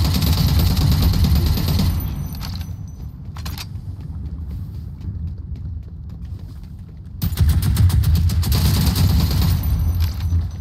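Sustained automatic turret gunfire in a video game, a dense loud rattling fusillade that eases briefly in the middle before resuming at full intensity, with no voices over it.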